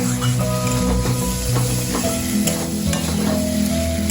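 Cauliflower tossed with spices in a hot pan, with a loud, constant sizzle and repeated scraping stirs of a spoon against the pan, close and unbroken.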